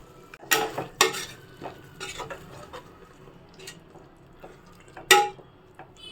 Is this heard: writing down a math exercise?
no